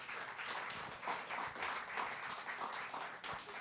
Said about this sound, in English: If we could have a round of applause